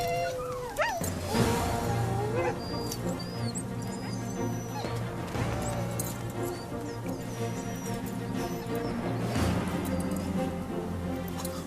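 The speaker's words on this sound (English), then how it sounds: "Huskies are originally from Siberia, where they've been used as sleigh dogs for centuries." Restless sled huskies whimper, yip and bark over a continuous dense wash of sound with music-like tones, the calls overlapping and steady in level throughout.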